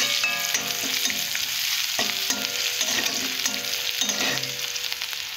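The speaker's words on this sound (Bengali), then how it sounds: "ধনিয়া আর জিরে দেব। এর সঙ্গে গরম মশলা দেব, দিয়ে ভালো করে ভেজে নেব।" Coriander, cumin and garam masala frying in a pan for a spinach dish, a steady close sizzle with repeated stirring scrapes, no talk.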